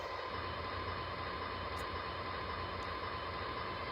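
An MTH Christmas model train engine plays its Proto-Sound 3 running sounds, a steady, unbroken rumble and hiss that holds for a few seconds.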